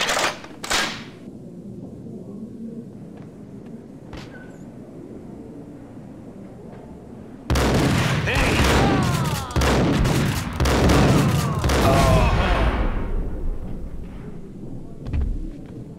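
A shootout in the video game Max Payne: quiet tension at first with a couple of isolated cracks, then a loud, dense barrage of rapid gunfire lasting several seconds before it tapers off, with no voices.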